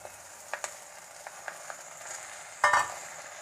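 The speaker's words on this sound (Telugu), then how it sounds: "ఇలా కొంచెం కలియపెట్టినట్టు చేసి ఈ బచ్చలి కూరను వేద్దాం" Malabar spinach being stirred into a frying pan with curry leaves: soft scraping clicks of a spatula spaced over a quiet sizzle, with a brief louder clatter near the end, heard up close with no talk.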